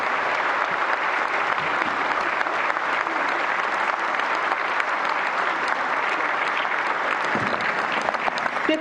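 Loud, sustained applause from a large audience fills the hall, welcoming the President of India at the 71st National Film Awards ceremony, steady and dense throughout.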